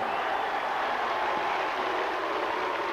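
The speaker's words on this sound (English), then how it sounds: "And listen to the crowd" A crowd in the stands at a high school football game cheers in a steady, continuous roar, moderately distant, with no single voice standing out.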